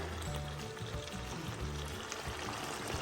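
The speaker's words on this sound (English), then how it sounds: "So I'm going to put a cup of water in there." A cup of water pours into a pan of pork and bean fry, a faint continuous trickling stream over a low background rumble.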